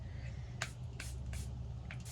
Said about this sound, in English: I'm also going to add some highlighter. Where? Not highlighter. Some setting spray to my brush when I do this step.